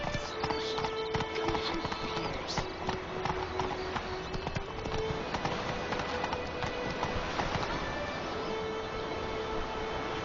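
Horse hooves clip-clop at a steady gallop in The Witcher 3, loud and close, with a continuous rhythmic beat under game music and ambience and the occasional horse snort.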